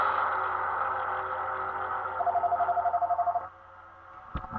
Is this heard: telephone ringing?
yes